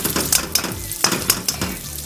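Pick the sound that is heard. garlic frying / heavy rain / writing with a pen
garlic frying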